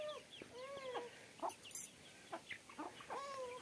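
Chickens cluck softly while pecking at scattered wheat and rice grains, a series of short, quiet, rising calls and chirps spaced irregularly in a calm setting.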